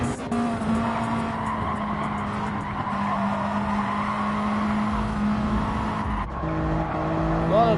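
Race cars at a 400 km race in Tokyo skid and squeal their tires amid a constant roar of engines, sustained and loud, with a sharper screech near the end and no speech.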